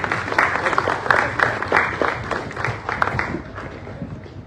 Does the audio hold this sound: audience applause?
yes